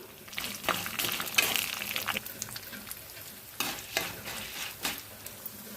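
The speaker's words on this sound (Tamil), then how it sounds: "இது கூட பூண்டு சேர்த்து வதக்கிடலாம். கொஞ்சமாக மிளகு சேர்த்து வதக்கிக்கலாம்." Garlic and black pepper sautéing in a pan for a leaf chutney, a soft steady sizzle broken by repeated scraping stirs of a spoon, fairly quiet and close.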